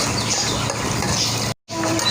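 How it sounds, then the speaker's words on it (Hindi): Chopped onion, green chilli and garlic frying in a pan for spinach curry, a steady dense sizzle throughout with a brief cut to silence near the end, then the sizzle resumes. "अब इसमें हम डालेंगे कटी हुई बारीक प्याज, कटी हुई हरी मिर्ची, इसमें डालेंगे कटा हुआ लहसुन।"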